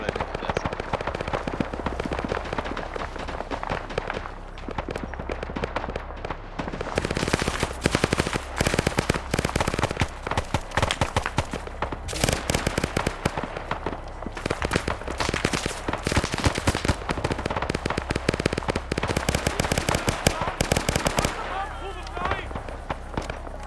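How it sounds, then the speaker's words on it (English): A PPSh submachine gun fires in a video game in long, rapid bursts with short pauses, dense and loud over roughly twenty seconds, mixed with other battle noise and someone talking. "That PPSH, man. It's a murderous weapon for a reason."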